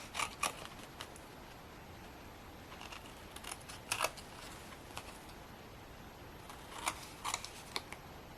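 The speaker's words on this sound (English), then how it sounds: "we'll flip it over and start trimming all this little extra off" Excess paper being trimmed off a papercraft tag with scissors, a series of crisp snips and clicks in irregular clusters over a steady low hiss.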